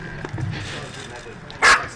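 A dog barking at an Australian rules football ground during a TAC Cup under-18 match, a single short bark standing out over steady commentary and distant ground noise.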